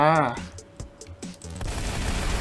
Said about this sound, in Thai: แต่เสียงปืนนี่ดังมากเลย